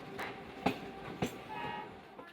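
Train moving along the Budgam to Srinagar rail route in Kashmir, a continuous rolling rumble broken by three distinct clickety-clack wheel hits at even spacing, with no one speaking.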